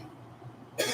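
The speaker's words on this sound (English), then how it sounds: "excuse me, I'm going to cough up a lot" A single sharp cough bursts out abruptly at the end, loud and close, following a stretch of quiet room tone with no speech.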